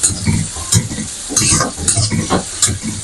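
Onions and spices fry in hot oil for a Bangladeshi rui fish dopeyaja and bean curry, loud close sizzling broken by repeated stirring scrapes in a steady rhythm.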